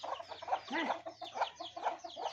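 Chickens cluck in short repeated bursts, close by, kept alongside goats in a village in Purulia, with a few soft overlapping calls and no talking.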